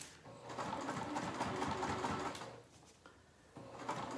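A sewing machine stitches a fabric pouch in close, rapid bursts of needle clatter. It runs for about two seconds, pauses, then starts again briefly, with no speech.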